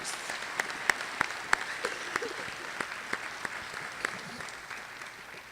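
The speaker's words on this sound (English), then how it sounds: "it's time to applaud those phenomenal professors" Sparse, distinct claps from a small audience at a university honors recognition ceremony, a dozen or so separate hand claps spaced over several seconds against a quiet room with faint murmuring.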